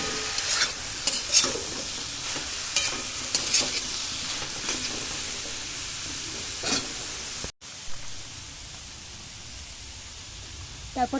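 Papaya, potato and parshe fish curry ingredients frying in a pan under frequent stirring scrapes and a continuous sizzle; partway through there is an abrupt cut to a quieter, steadier hiss with only occasional stirs.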